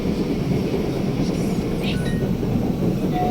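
Steady low rumble of a light rail (LRT) train car riding along the line, continuous and fairly loud, with faint tonal squeals and a brief high whine near the end.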